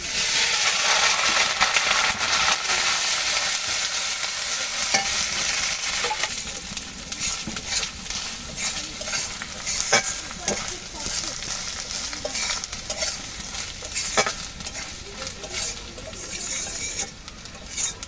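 Grated coconut with turmeric fries in a pan as it is stirred, a loud steady sizzle with irregular scraping and crackling from the spatula, continuing at close range without pause.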